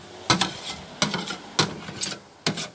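Sauce being stirred for duck leg skewers, with four distinct scraping strokes of a utensil against a bowl or pan, spaced irregularly and fairly close, with no talking.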